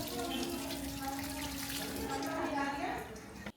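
Water poured over a Gopal idol during its bath at a Nanda Utsav festival in Vrindavan, a steady running splash and trickle heard up close under continuous voices.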